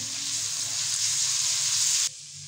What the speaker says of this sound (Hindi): अब हम लोग इसके अंदर जो है लहसुन का पेस्ट ऐड कर दूँगी मैं और इसको भी अच्छी तरह से फ्राई कर लेंगे